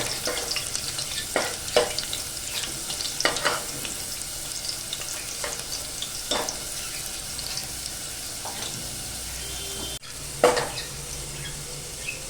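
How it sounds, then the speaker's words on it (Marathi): Garlic frying in oil as a tempering for a Malvani colocasia-leaf curry, a steady close sizzle punctuated by regular spatula strokes and scrapes against the pan, with a brief pause near the end. "आता आपली लसूण छान अशी परतून झालेली आहे"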